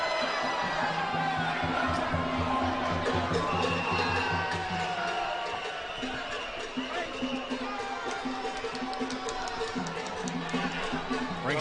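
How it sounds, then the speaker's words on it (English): Arena crowd at a boxing match roars and cheers steadily throughout, with drumming and dense chatter under a sustained wash of noise that eases slightly midway. "Well, got the crowd into it."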